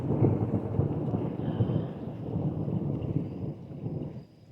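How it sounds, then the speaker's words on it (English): A desert rainstorm brings steady rumbling thunder and dense rain hiss that stays loud throughout before easing slightly near the end. "The thunder and just the pitter-paddle of little drops."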